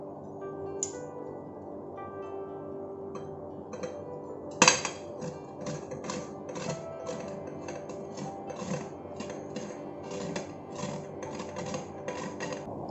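Peeled sweet potato grated by hand for a fasting-day upma, making steady rhythmic rasping strokes close by, with occasional clinks of a utensil and no talking.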